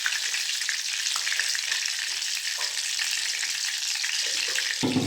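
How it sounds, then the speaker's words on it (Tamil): Mustard seeds splutter and crackle in hot oil in a pan for a bitter gourd poriyal, a steady dense sizzle with small pops throughout, close and fairly quiet. "கடுகு பொரியுது."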